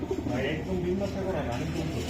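A pigeon coos softly under a man's close, continuous talking, the low throaty notes partly masked by his voice.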